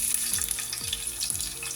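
Garlic sizzles briskly in a hot pan for an ampalaya dish, a close, continuous crackling fry with a few light stirring knocks.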